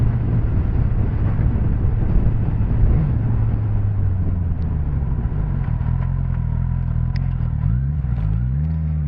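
A Suzuki GSX-S 1000F motorcycle engine accelerating on a ride, a steady loud roar whose pitch sweeps upward through the gears near the end, with wind noise and no talking.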